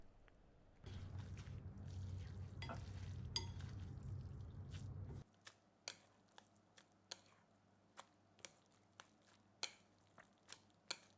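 Drained Shin Ramen noodles dumped into a pan: a wet, squishy sizzle swells for several seconds, then gives way to a quiet series of sharp clicks and taps from utensils, with no talk.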